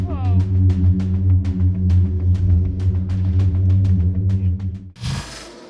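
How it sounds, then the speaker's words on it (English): Singing sand in a desert, a low steady droning hum with layered tones and a rough rushing burst near the end, loud and close. "when 2 layers of the sand collide with each other,"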